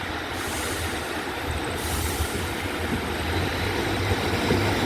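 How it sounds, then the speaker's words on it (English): A Class 150/2 Sprinter diesel train rumbles past close by at Exeter Central station, a loud, continuous roar of engine and wheels on rails with a hissing edge, steady for the whole stretch. "Class 150/2 Sprinter."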